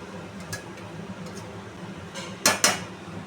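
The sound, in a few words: soybean curry with spices being stirred and sautéed in a pan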